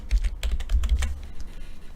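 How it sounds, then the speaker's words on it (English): Rapid typing on a computer keyboard, with a quick run of close, crisp key clicks that slows and softens toward the end, with no talk over it. "Why I'm typing Midas?"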